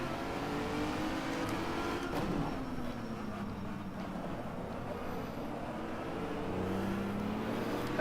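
A Renault Megane race car in rFactor 2 gives a steady, loud engine drone at the Autodromo di Mores circuit, with the pitch slowly falling and rising as it drives, and no talk.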